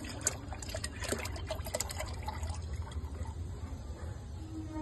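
Fermented oil-cake water for garden plants is poured and trickles steadily into a container, a soft continuous liquid dribble close by with faint outdoor background.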